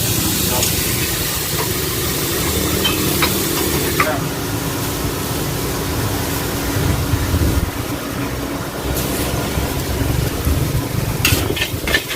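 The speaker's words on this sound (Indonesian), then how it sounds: "Oke kita akan melihat sebentar proses pembuatan mie goreng ini" Mie goreng fried over wood charcoal at a Penang street stall: a steady, close sizzle with stirring and scraping runs throughout, over a low engine-like hum.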